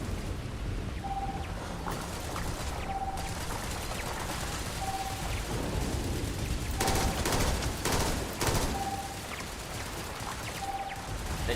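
Gunfire in the Starfield video game comes as a dense, ongoing rattle of shots with periodic short tonal beeps, steady and moderately loud throughout, with brief louder bursts near the middle.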